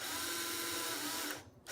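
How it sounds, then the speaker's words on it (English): A power string winder spins steadily as it winds a guitar string, a continuous loud whir that stops abruptly just before the end. "with my handy string winder, I can go ahead and string this up"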